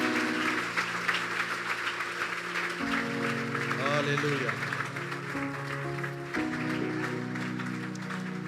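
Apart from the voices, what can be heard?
congregation applause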